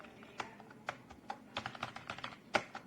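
Quick, light keystrokes on a keyboard connected to a Huawei P40 Pro Android phone, with irregular close clicks and a few sharper taps on a quiet background.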